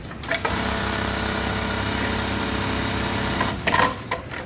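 A Juki LBH-781 buttonhole sewing machine runs with a steady, smooth mechanical whir for several seconds, starting and stopping with brief clicks at each end, fairly close and without talk.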